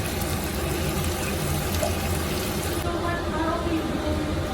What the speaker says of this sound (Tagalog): basta lagyan natin ng tubig yan.